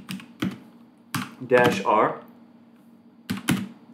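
Typing on a new computer keyboard, several sharp key clicks in short bursts at close range, with a voice speaking briefly between the keystrokes.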